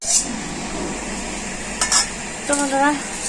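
Spice masala of chili, turmeric and salt frying in a wok, a soft sizzle with a few scraping stirs of a utensil against the pan, close and fairly quiet.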